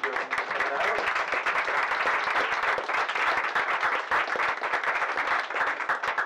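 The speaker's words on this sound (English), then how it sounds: "So let's give the speakers one more round of applause." A full audience applauds the speakers at the close of an Astronomy on Tap science talk night in State College, a steady, dense wash of clapping that stays loud throughout with no voices over it.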